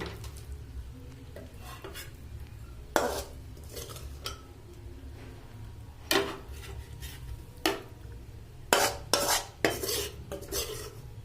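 Cooked milk-pointed-gourd and poppy seed dish being scooped from the pan into a bowl, metal spoon clanks and scrapes striking in irregular bursts over a low background hum.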